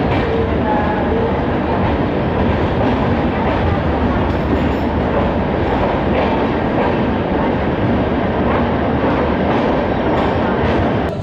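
A Shatabdi Express train pulls into Kathgodam station, the last stop on the line, with a loud, continuous rumble of wheels and carriages on the rails. It fills the whole stretch steadily and up close.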